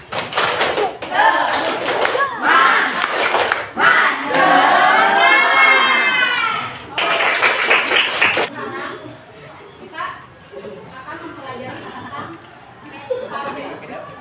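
A classroom of children performs a rhythmic spirit clap, with loud patterned clapping in bursts and shouted chanting voices, then settling into quieter murmur and talk.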